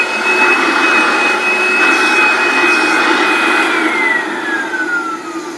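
Vacuum cleaner running loud and close with increased suction, a steady roaring whine whose pitch drops toward the end.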